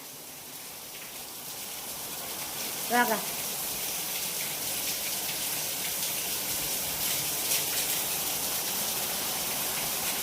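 Heavy rain pours in a dense, steady wash close by, with a brief voice calling out once partway through.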